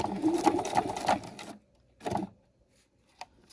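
A sewing machine back stitching a backpack strap runs in a quick rattling burst of stitches, pauses, then gives a shorter second burst and a faint click, close and clear with no talking.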